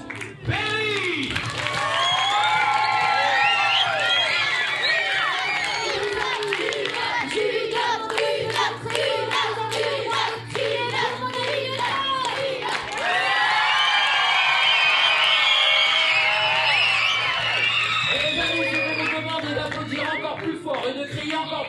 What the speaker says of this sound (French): je vous demande d'applaudir très très fort Monsieur Chuck Berry